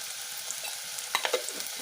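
Sliced onions with a pinch of turmeric frying in a pan for a bean and cauliflower curry, a soft continuous sizzle with a few quick stirring scrapes and clinks near the end.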